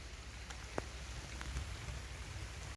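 Rain falls steadily during a rice harvest in the countryside, a soft continuous hiss with a few faint distinct drips and taps, no voices.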